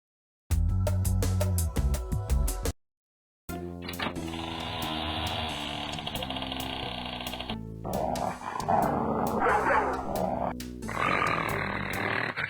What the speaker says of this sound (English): In every wealthy home in England, there's usually a vicious dog to protect the jewels